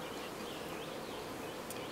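Honeybees buzz in a dense, steady drone from an opened hive in late July, a close, continuous hum with no pauses.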